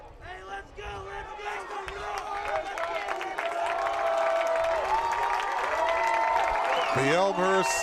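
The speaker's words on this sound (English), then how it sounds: "The Elmhurst sideline encouraging the crowd, and the crowd responding nicely." A college football crowd at Elmhurst's home field cheers and shouts, a roar that swells and holds steady. Yelling voices stand out above the noise, and a few claps are mixed in.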